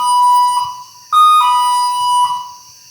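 An electronic alarm beeps in a small bedroom, a loud steady tone broken by several short repeated bursts of beeping across about three seconds, with no talk.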